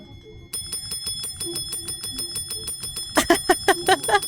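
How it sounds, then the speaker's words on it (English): Service bell in the video game Loretta, struck in a rapid run of bright metallic dings, lighter at first and then louder and more forceful near the end, with no talking. "Let's use the bell."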